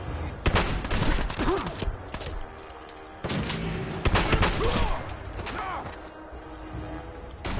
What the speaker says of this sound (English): Now I want to go in here and use my new shotgun.